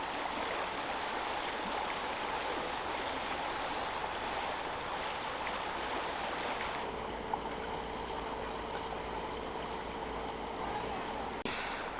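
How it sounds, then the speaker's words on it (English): The River Severn flows steadily past a footbridge on the walk from Newtown toward Welshpool, giving a continuous broad rushing wash that stays even throughout, heard from close by with a slight change in tone partway through. "Now that's obviously the River Severn."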